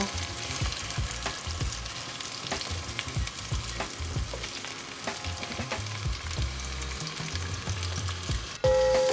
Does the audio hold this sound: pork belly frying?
yes